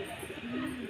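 A Madrasi pigeon gives a brief, soft coo, one low drawn-out note that is faint and close, with light background hiss.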